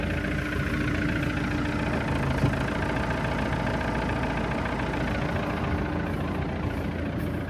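Old tractor loader engine idling steadily, a loud, close diesel rumble with an even rhythmic throb that runs unbroken without talk.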